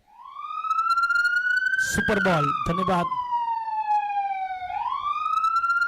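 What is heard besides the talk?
siren sound effect played by DJ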